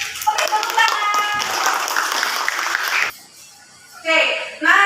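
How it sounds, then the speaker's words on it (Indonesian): Classroom clapping from a group of students fills the first three seconds, a dense patter of hands that ends abruptly and gives way to a teacher's voice. "Jadi, oke, tepuk tangan"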